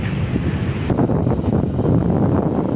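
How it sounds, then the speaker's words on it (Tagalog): Steady wind roars across the microphone on the deck of a fast-moving ferry, a constant broadband rush with no voices. "Wow, sarap ng hangin."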